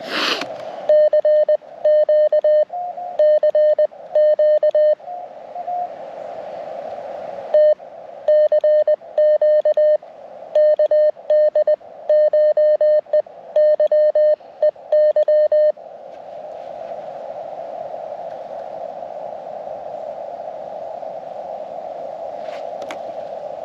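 A first-time amateur radio operator keys a CQ call in Morse code on CW, clean sidetone beeps in bursts of dots and dashes over a steady hiss, the sending halting after about fifteen seconds as a plain tone remains.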